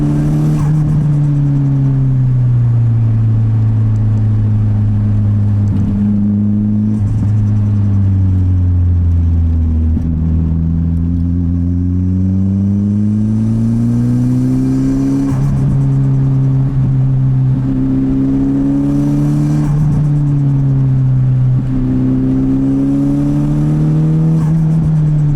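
A right-hand drive car pulls away and accelerates hard along the road, its loud, close engine drone rising and falling in pitch through repeated gear changes, with no talk over it.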